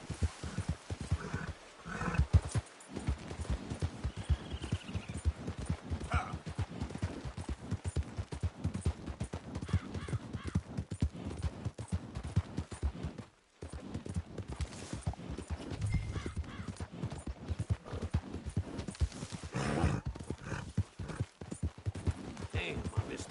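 Horse hooves clip-clopping in the video game Red Dead Redemption 2, a steady rhythmic patter of hoofbeats continuing throughout, with a voice talking over it at moments.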